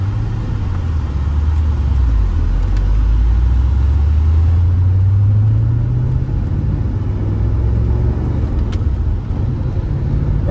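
A 1984 Porsche 928 S engine runs steadily while driving on a warm day in Phoenix, its deep, continuous rumble rising in pitch as the car accelerates, loud and close with no talking.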